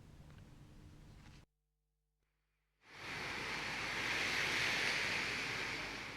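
Moderate ocean waves at Lovina Beach, Bali, under an overcast sky wash in with a soft, steady roar, broken by a short silent gap before the surf returns fuller and slowly builds.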